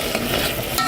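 Eggplant pieces stirred in a cooking pan: a brief, close scraping stir over a soft sizzling fry, with no voices.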